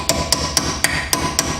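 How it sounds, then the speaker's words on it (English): A hammer striking a brake pad retaining pin on the front brakes of a 2003-2006 Mercedes E55 or 2006 CLS55 AMG, six sharp metallic taps at an even, steady rhythm, close and loud. "continue to hit it in with the hammer so you can get it to start on the other side"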